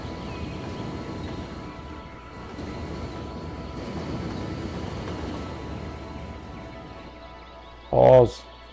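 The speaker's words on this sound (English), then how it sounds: "There it goes. Freight train, it looks like." A freight train in the city-building game Cities: Skylines rumbles past as a continuous low rolling drone, with someone talking over it and a short sharp burst near the end.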